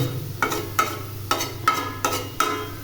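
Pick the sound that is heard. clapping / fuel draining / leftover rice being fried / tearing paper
leftover rice being fried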